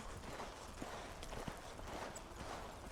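Horse loping around a barrel while being started as a barrel horse, with soft repeated hoofbeats in a steady rolling rhythm, faint and somewhat distant over broadband outdoor noise.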